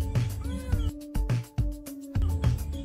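A cat meows repeatedly up close, several drawn-out tonal calls with short gaps between them, loud and clear with no talking over them.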